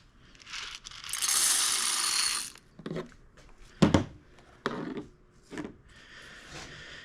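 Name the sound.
coffee beans loaded into popcorn machine roaster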